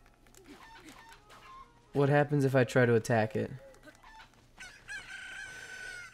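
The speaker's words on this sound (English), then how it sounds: "So, it's a chicken. I wonder if this is the same chicken as, like, the chickens in the other games." A chicken in The Legend of Zelda: Breath of the Wild gives a burst of loud, rapid clucks and squawks, then a shrill crow-like call, with someone talking quietly before and over it.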